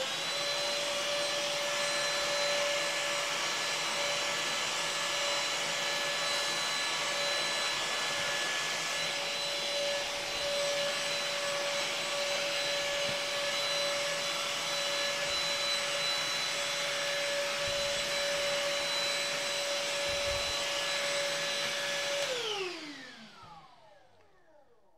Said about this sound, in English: Yeah, this is a vacuum.